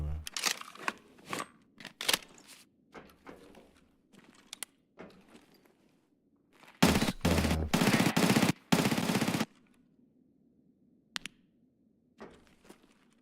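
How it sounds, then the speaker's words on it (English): Rapid bursts of automatic gunfire in Escape From Tarkov, a loud dense volley lasting a couple of seconds after scattered single shots and footsteps, with quiet stretches between. "Shooting at us."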